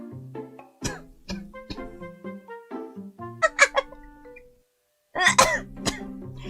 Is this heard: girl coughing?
yes